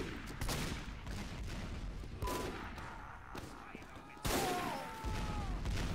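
Rapid rifle fire in a foggy video game match, sharp bursts of shots crackling in quick clusters over a busy background, with a louder volley near the end.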